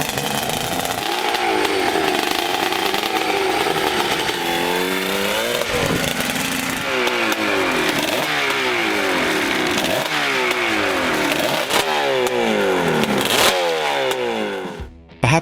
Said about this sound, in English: Also noted was the extremely deep and muscular sound of this engine.